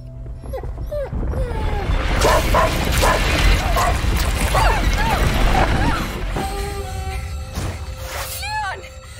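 Leon the dog in A Plague Tale: Innocence barks, yips and whimpers in a game scene, with sharp calls scattered across the clip over a busy, loud background and some voice-like sounds.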